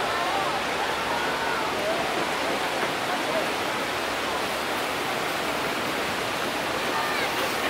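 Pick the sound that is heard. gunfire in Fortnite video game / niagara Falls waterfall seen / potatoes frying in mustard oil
niagara Falls waterfall seen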